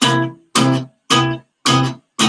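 An electric guitar played through an amp, strummed wrongly: five loud ringing chord strums in a steady rhythm, each sustaining briefly before being cut off, heard alone and up close.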